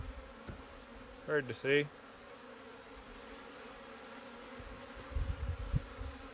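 Honeybees drone faintly around an opened hive with a medium box, a low steady hum under a brief bit of speech and a few handling knocks near the end.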